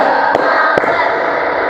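Schoolchildren in a classroom clap a short pattern, a few sharp, fairly loud claps over steady room noise.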